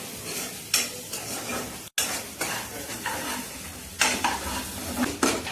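Dal and a cluster bean and potato curry being stirred and fried in a shared hostel kitchen: a steady close sizzle with repeated scraping and clinking strokes of a spoon against the pan at irregular intervals.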